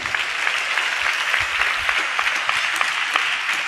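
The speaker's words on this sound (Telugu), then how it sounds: "గట్టిగా చప్పట్లు కొడుతూ స్తోత్రాలు చెప్దాం" A church congregation clapping loudly together, a thick, continuous roar of hands that stays strong and steady from start to finish.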